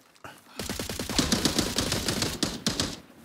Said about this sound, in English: just shoot into the fucking bushes. two hits. Ah! Ran out of fucking ammo.